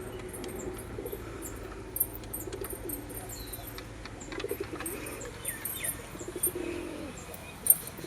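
Pigeons cooing and calling outside a rooftop pigeon loft, soft and somewhat distant, with low, wavering coos repeating through steady quiet background noise and a few faint chirps and wing sounds.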